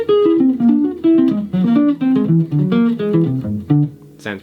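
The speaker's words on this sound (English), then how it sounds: "that's just an augmented triad built off every note of the whole tone scale" A jazz lesson instrument plays a chain of augmented triads stepping through the whole tone scale, short separated chord stabs moving up and down in a steady pulse, with no talking.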